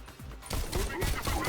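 Rapid gunfire in the Bullet Train VR game, a dense fusillade of overlapping shots and impacts building from a quieter start into loud, continuous bursts.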